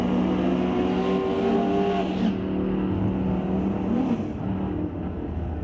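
Drag race cars launching at a drag strip, a 1973 Nova against a 66 Bel Air, loud engines roaring at full throttle, rising tones shifting as the cars pull away and the sound eases slightly toward the end.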